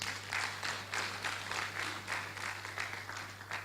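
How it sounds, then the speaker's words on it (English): A soft, fairly distant round of applause from an audience at an anniversary event and foundation launch, with claps pulsing in a loose rhythm over a steady low electrical hum. "Give yourselves another round of applause"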